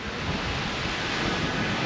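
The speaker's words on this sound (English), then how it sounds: "enjoying the evening breeze coming off the ocean" Ocean surf and evening breeze at a beach resort in Huatulco, Oaxaca, Mexico, a dense continuous wash of rushing waves and wind noise, steady and fairly loud with no voices.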